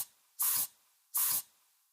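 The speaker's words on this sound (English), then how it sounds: "Don't forget your setting spray." Two short, crisp hissing sprays from a pump bottle, evenly spaced in quiet, each lasting about a quarter second.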